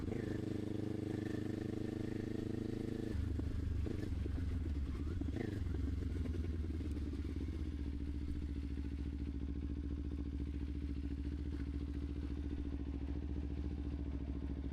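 A Kawasaki Ninja motorcycle engine drones steadily while riding, with a shift in pitch partway through and constant wind rush and rattling throughout.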